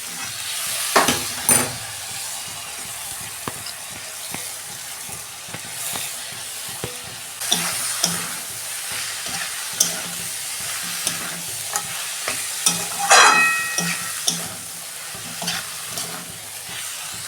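Cabbage stir-fried in a pan, a constant sizzle broken by repeated sharp spatula scrapes and knocks against the metal, close and clear.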